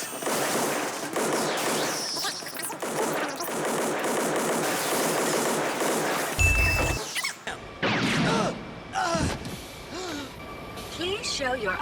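Anime gunfire from Trigun, a character firing a long rapid burst of shots, loud and dense over a busy soundtrack with music and effects, followed by scattered shots, clanks and other action sounds.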